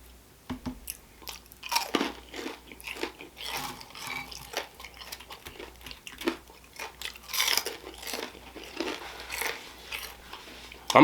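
Crunchy biting and wet chewing of homemade fried chicken drumsticks, close to the mic, with repeated irregular crunches and smacking spread through the whole stretch and no talking.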